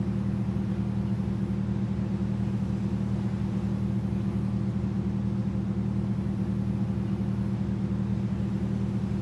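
A ship's engine in the TransOcean video game idles with a steady, deep droning rumble that never changes, loud and continuous throughout with no talking over it.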